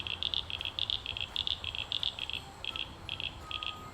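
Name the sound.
chorus of several frog species calling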